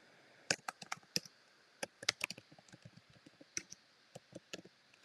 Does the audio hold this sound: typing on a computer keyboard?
yes